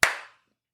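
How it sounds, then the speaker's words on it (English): A single sharp hand clap in a movement or yoga class space, crisp and close, ringing briefly before fading into silence with no talk around it. "I'll start with clapping hands"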